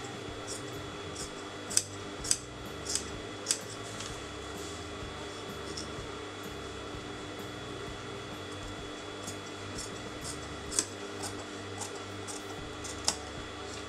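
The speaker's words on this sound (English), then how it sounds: "So now cut the inner fabric, just leaving a marginal amount of fabric out." Scissors cutting canvas fabric in a neckline project: scattered sharp snips, a cluster early on and a few later, over a constant hum of a fan or machine, with no voices.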